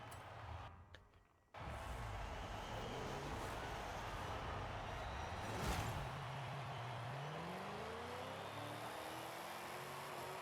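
Pontiac Firebird engine in Forza Horizon 5 during a D-class NASCAR-style race, droning steadily and loud with the revs climbing and sweeping, after a brief quiet opening.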